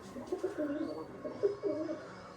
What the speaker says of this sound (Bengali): অনেক কবুতর ডিম দিছে, দেখেন বসে আছে সুন্দর